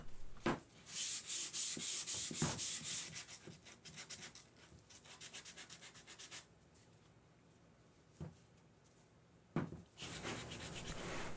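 Very coarse sandpaper rubs over wooden edges to round them, in quick back-and-forth strokes that start as a steady run, then go quieter with a few isolated scrapes and a final burst of sanding.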